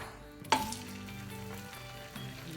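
Egg foo young omelet mixture poured into a hot pan, a soft sudden splash then a faint, steady sizzle underneath a quiet background tone, with no talking.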